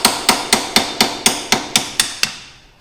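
A Wera striking cap screwdriver struck by a hammer to pop a dust cap off a Wright lawnmower: nine sharp metallic hits in an even, steady rhythm, close and loud, with no talk.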